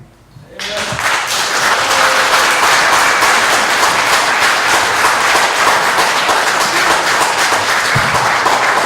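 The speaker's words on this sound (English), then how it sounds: "I'll tell you to stop clapping." Clapping from the audience at a school board special meeting starts abruptly after a brief quiet moment and continues as loud, steady applause from many people, with voices mixed in.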